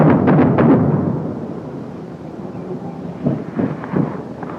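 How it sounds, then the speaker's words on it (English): Vietnam War airstrike explosions boom in the field, a heavy rolling blast at the start followed by fainter distant thuds and rumbles, with wind buffeting the microphone. "Airstrike."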